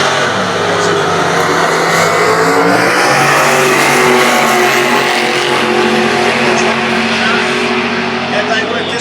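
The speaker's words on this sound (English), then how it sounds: "We've seen Darlow over this side, the Precise Automatics HZ with a 383 Chev" Drag racing cars roar loudly at a Winternats event, including a Holden HZ with a 383 Chevrolet engine against a VR Commodore with a big block Chevrolet, engines revving hard and continuously at close range.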